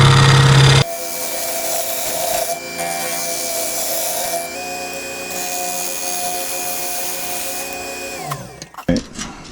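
Wax is pressed against a spinning ambrosia wood piece on a lathe, producing a steady rubbing, droning hum with a faint tonal whine that shifts pitch, then winds down into scattered knocks at the end.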